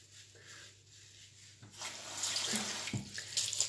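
Water running steadily from a tap while a face mask is rinsed off, a close hiss that swells louder and brighter partway through, with no talking.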